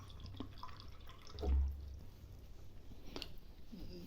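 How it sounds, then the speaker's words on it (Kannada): Water poured into an egg curry in a home kitchen, with faint drips and one brief soft splash, heard quietly with no talking. "ಸೊ ಅದಕ್ಕೋಸ್ಕರ ನೀರು ಹಾಕ್ಕೋತಾ ಇದ್ದೀನಿ."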